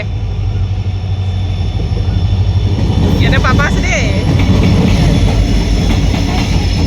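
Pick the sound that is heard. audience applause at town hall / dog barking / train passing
train passing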